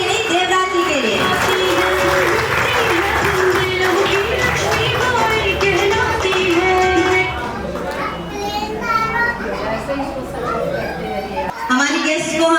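At an International Women's Day gathering in Etawah, a crowd applauds loudly and steadily, the clapping joined by excited children's chatter and voices throughout.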